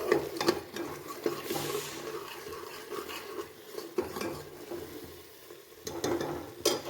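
Masala for a potato and chickpea curry fries in oil with asafoetida powder as a spoon stirs it: a constant wet sizzle broken by repeated scraping and clinking strokes against the pan, close and fairly loud, with no voices.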